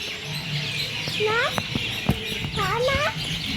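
Small birds, sparrows in a tree, chirp in quick rising twitters against outdoor background noise, a couple of short bursts with scattered knocks; moderately close.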